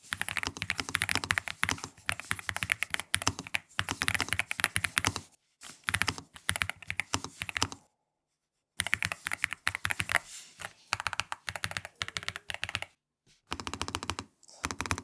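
Fast, continuous keystrokes on a NuPhy Gem80 tactile mechanical keyboard, recorded up close, with crisp clacky hits and a few short pauses between bursts.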